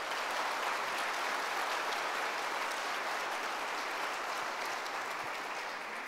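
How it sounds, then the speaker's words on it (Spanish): A large church congregation applauds steadily, a dense, sustained roar of clapping that holds at full strength throughout. "Un aplauso para el Señor."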